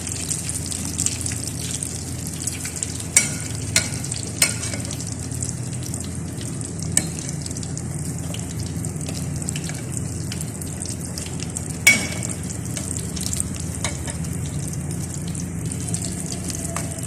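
Keema samosas deep-fry in oil with a continuous, dense bubbling sizzle, close and even throughout, broken by a few light clicks.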